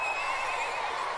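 A horse in the video game Mount and Blade lets out a single loud, drawn-out whinny that fills the whole moment, with no talking over it.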